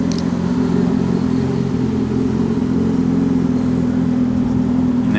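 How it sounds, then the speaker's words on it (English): A motorcycle turning around nearby, its steady mid-pitched engine droning loudly and continuously at idle to low revs, with no talk over it. "just turning his motorcycle around, so I guess we're gonna hear that"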